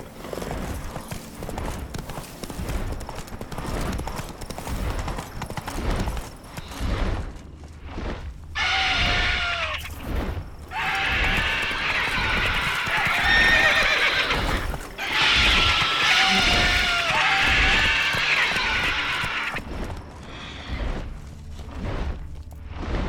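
Horse in The Witcher 3 video game neighing and whinnying over steady galloping hoofbeats, with a dull rumbling game soundscape underneath; the whinnies come in repeated bursts near the middle, loud and close.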